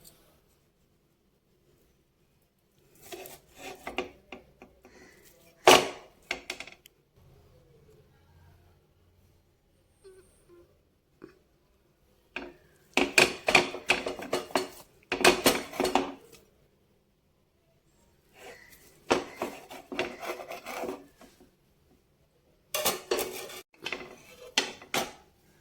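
A knife cuts a cheese omelette into slices in a pan, giving scattered bursts of scraping and tapping against the pan surface separated by quiet gaps.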